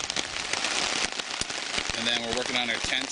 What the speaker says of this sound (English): And it started to rain a little harder